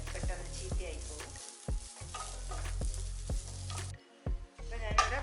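Mature coconut pieces fry in a pan for a sugar-free laddu, sizzling steadily while a spoon scrapes and stirs in a repeated rhythm with short pauses, close and clear.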